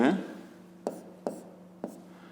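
Pen strokes on paper while working a 5th-grade math route problem, three short sharp scratches spaced about half a second apart, close and quiet, with a brief voice at the very start.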